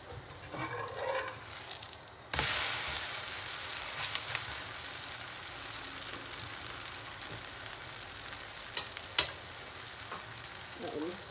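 Malawax pancake batter frying in butter in a pan, a loud continuous sizzle that jumps up abruptly as the batter hits the pan, then crackles steadily with a few sharper pops, with no talk.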